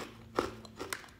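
Freeze-dried Skittles candy crunching between the teeth: a sharp bite near 0.4 s and another near 0.9 s, close and fairly quiet, with no talk.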